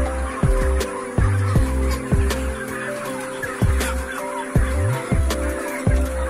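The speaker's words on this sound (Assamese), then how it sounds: "ডাঙৰো দেখিছে কিমান ডাঙৰ ডাঙৰ হৈ আছে বয়লাৰবিলাক" Large broiler chickens of around three kilograms on a poultry farm in Lakhimpur let out loud, close, repeated honking clucks at irregular intervals. The calls sound over a constant background hum of the flock.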